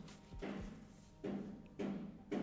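Outdoors, a builder bangs a hammer against a wheelbarrow, giving four or five muffled metallic thuds at irregular intervals, somewhat distant and fairly quiet.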